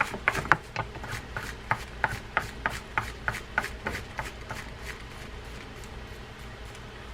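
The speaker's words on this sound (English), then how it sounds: "We're going to use that brush to clean up the old greases that are in that pinion gear." A small brush scrubbing old grease from the pinion gear of an Olympic Mark III 550 classic spinning reel: a run of quick, regular bristly scrapes, fairly close and quiet, fading toward the end.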